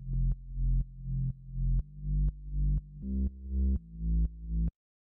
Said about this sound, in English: Next thing we have here is the bass, which sounds like this.